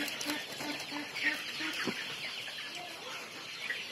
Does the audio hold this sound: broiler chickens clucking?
yes